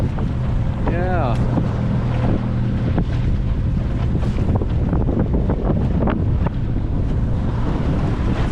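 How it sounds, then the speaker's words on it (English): Strong wind buffets a boat cruising among icebergs, a loud continuous roar of gusts against the microphone with water wash and hull noise beneath, and a brief voice near the start. "Hey, be careful here, strong winds today."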